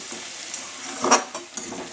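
Fresh grated coconut is stirred into sautéed pea greens in a pan, giving a soft sizzle with a quick spatula scrape and a few light taps, close and brief.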